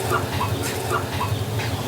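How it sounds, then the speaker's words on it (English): A rooster crows in short repeated calls, somewhat distant, over a steady background hum, in Vietnam. "Now that rooster is not having a good time over there."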